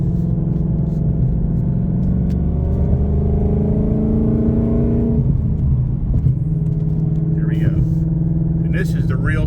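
A 2024 Ford Mustang GT with an aftermarket exhaust and new suspension rumbles steadily from inside the car over a very bumpy stretch of road, its low engine drone continuous and loud, with a brief dip mid-way and a voice talking over it.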